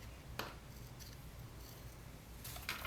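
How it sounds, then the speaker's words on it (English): Scissors snip through thin scrapbook paper while fussy cutting a small penguin shape, giving a few quiet, close crisp cuts over a low background hum. "I'm going to fussy cut my penguin"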